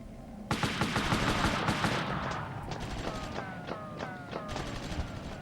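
Gunfire in the PlayStation video game Army Men: Land Sea Air, rapid machine-gun bursts and single shots crackling in quick succession, loud and close, with some ricochet-like pings in the later half.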